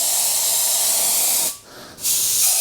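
An Iwata Vault HP.TH2 airbrush sprays paint in a steady, loud, close hiss that cuts out briefly for a moment before resuming, with no talking.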